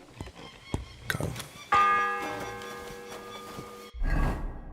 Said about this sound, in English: The bell tolls.